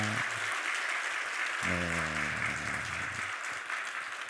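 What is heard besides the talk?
church congregation applauding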